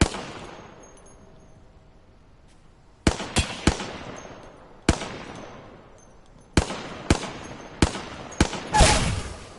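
Gunfire in the Apex Legends battle royale game: sharp, loud single shots spaced irregularly, some near and some more distant, ending in a quicker cluster of reports.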